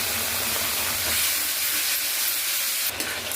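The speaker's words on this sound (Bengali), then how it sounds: "ওই তেলের মধ্যেই আরও সামান্য একটু তেল দিয়ে আমি কচু পাতা বাটাটা" Taro leaf paste hits hot oil left in the pan from frying fish, giving a loud, steady frying sizzle and hiss that runs through the whole stretch without any talk.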